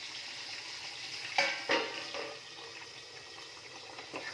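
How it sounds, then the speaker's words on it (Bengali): Chicken pieces stirred as they fry in a pan, with a soft continuous sizzle and a few distinct scraping and clinking strokes of the utensil against the pan, close and fairly quiet. "চিকেনটা নাড়াচাড়া করে নিই"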